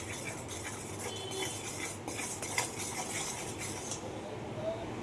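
Spoon stirring a turmeric and Kashmiri chili powder mixture with butter in a pan, soft repeated scraping and light clinks in a steady rhythm, close by.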